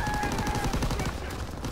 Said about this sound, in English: that tank machine gun's pretty powerful